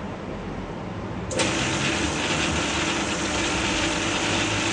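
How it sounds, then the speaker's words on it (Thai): An engine cranks and catches with a sudden loud rise, then settles into a steady, rough running drone while hauling a 600 kg load of six weights, close by with no talk. "แล้วผมจะเปิดเครื่อง โดยโหลดน้ำหนักที่600 กิโลหรือ6 ก้อน"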